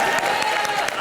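A live studio audience at a comedy show applauds in a dense, continuous burst, with a voice running underneath the clapping.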